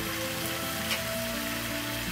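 Kwie kwie curry masala frying in a pan, a steady close-up sizzle and crackle like light rain, constant and even throughout.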